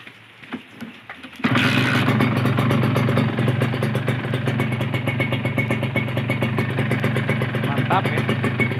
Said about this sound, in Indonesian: setelah dipasang ya mesinnya, mari kita hidupkan.